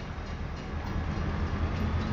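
A train runs in the Farming Simulator 22 video game, a steady low rumble of wheels and engine with a constant broadband roar, close and continuous, no talking.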